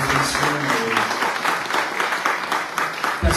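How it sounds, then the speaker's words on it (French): A lecture audience applauds warmly, producing a dense, steady wash of many hands clapping that holds for several seconds at close range. "On vous applaudit chaleureusement pour ces réflexions"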